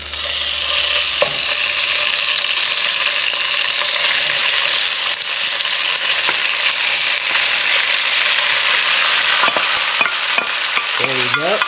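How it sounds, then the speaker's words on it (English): Pork bulgogi meat hits an oiled pan and crackles into a loud, continuous sizzle that fills the whole stretch, with scattered pops and a few scraping taps near the end. "We're ready to drop the meat in."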